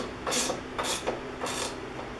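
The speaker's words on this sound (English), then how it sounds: "for this we'll use a Phillips screwdriver on one end and a 10 millimeter" A Phillips screwdriver and a 10 mm socket fastening an Ultrawall lumber wall storage rack, making three short scraping, grinding turns up close over a low background hum.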